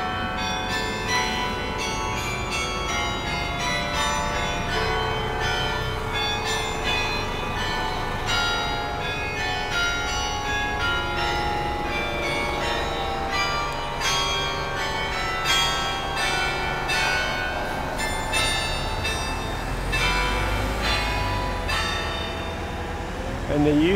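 A carillon of 49 tuned bronze bells cast in the Netherlands plays a long, steady melody of ringing strikes with overlapping resonant tails, moderately distant and continuous.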